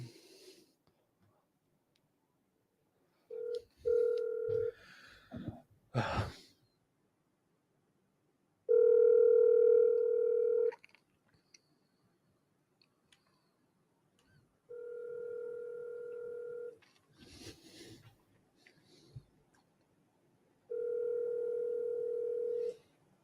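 An outgoing phone call rings unanswered before going to voicemail: a quiet, even ringback tone sounds in long pulses about every six seconds, with soft handling rustles and a brief clatter in the gaps.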